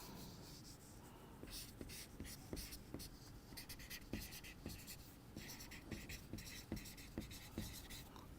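Pen or pencil writing a first draft by hand on paper, close and quiet, with irregular scratchy strokes and soft tapping marks in an uneven rhythm, no talking.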